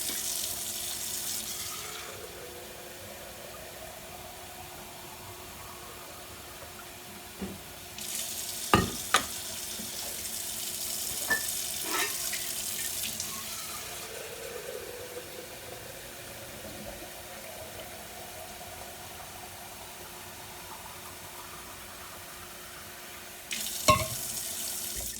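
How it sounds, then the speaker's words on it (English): Hot tap water running from a faucet to warm French press vessels, a steady faint stream with louder splashing bursts at the start, middle and end. "Tap water, hot enough to do the job."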